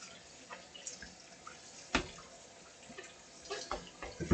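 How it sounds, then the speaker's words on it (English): Chopped carrots are washed and rinsed by hand in water, giving faint, scattered splashes and drips with a few sharper sloshes, quiet and close. "We wash it. We already chop, but we need to wash and rinse."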